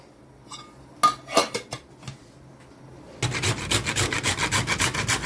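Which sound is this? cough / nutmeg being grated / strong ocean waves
nutmeg being grated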